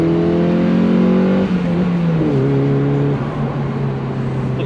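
Ford Fiesta ST200 with a Milltek exhaust revs steadily from inside the car with the roof closed, a loud close engine drone that drops in pitch twice as it shifts, with no talking.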